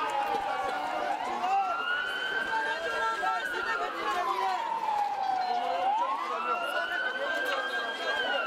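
An ambulance siren wails in long rising and falling sweeps, loud and fairly close, over continuous background chatter and murmuring voices.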